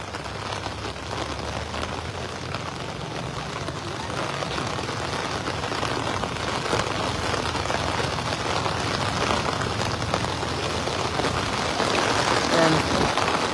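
Heavy typhoon rain pours steadily onto surfaces by the Marikina River, a dense continuous hiss with scattered drops, growing slightly louder toward the end.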